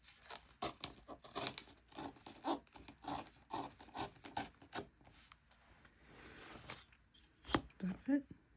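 Scissors cut the tail of a paper craft piece with soft, quiet snips and rustles of paper, close to the microphone, while a person talks over the cutting.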